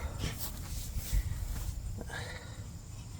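Dogs playing roughly together at close range, producing a short burst of breathy, growly scuffling noise with a few sharper yips.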